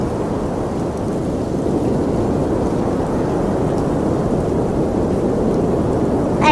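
Heavy cartoon rainstorm with thunder: a dense, steady roar of downpour holds loud and constant throughout, with low rumbling underneath and no talking.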